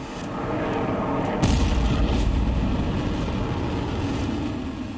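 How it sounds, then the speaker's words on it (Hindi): An Iranian missile launch toward US military bases in Qatar and Iraq brings a loud, deep rushing roar that surges suddenly, holds heavy and sustained, and then slowly eases. "इसी तरह से एक एक कर 19 मिसाइलें ईरान ने कतर और इराक में बने अमेरिकी सैन्य बेस की ओर दाग दी"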